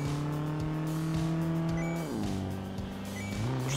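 A car in the mobile stunt racing game Mountain Climb Stunt, with a steady synthetic engine drone whose pitch drops sharply midway and then climbs again, loud and close, with no talking.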